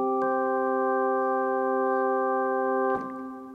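A Hammond organ setting on a Nord Stage 2 keyboard holds one steady, bright chord with stacked harmonics for about three seconds. It then shifts and thins out near the end, played alone with no talking.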